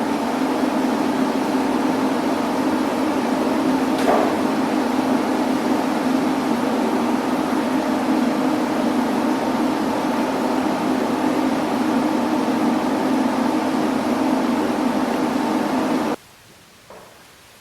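Slim-profile dust filter unit with five tube fans running, a loud steady broadband whoosh and hum that holds constant for about sixteen seconds before cutting off abruptly, leaving near silence and a faint knock.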